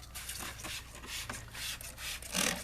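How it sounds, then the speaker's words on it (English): A brush scrubs a truck's tires outdoors in repeated rough rubbing strokes, moderately close, with a louder scrub near the end. "Let's go ahead and get to scrubbing."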